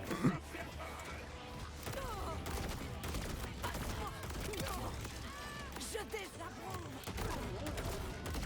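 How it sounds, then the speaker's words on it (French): Legendary shotgun blasts in the video game Borderlands 4, repeated bursts of gunfire and impacts mixed with game effects and voices, busy and continuous throughout. "elle est trop bien le fusil à pompe légendaire"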